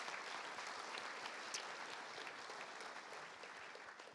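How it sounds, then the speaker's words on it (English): A quick round of audience applause at a club Olympic luncheon in North Harbour, sustained even clapping from a roomful of diners, heard fairly faint and distant and fading slightly toward the end. "if we maybe just give Mike a quick round of applause as well"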